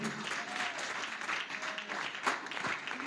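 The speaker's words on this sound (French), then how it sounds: "Acclame bien." A church congregation breaks into sustained applause, a dense wash of clapping from many hands that carries at a moderate distance without pause, with a few voices faintly mixed in.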